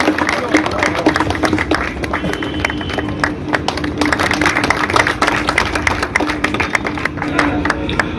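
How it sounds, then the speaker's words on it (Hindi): A village gathering in Sisana, Kharkhoda, welcomes a new member at a membership drive with steady, dense applause from many hands, continuous and fairly loud, with voices talking over it. "तालियों से स्वागत किया जाए।"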